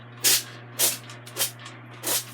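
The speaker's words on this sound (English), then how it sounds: "I'm using my Evo oil sprayer." An Evo oil sprayer mists oil onto breaded chicken legs in four separate hissing bursts, each short and close, with a steady low hum underneath.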